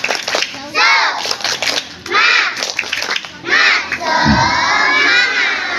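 Elementary schoolchildren at a morning school assembly shout together in loud bursts and a rhythmic spirit clap, with a crowd of young voices rising and falling in several waves over about six seconds.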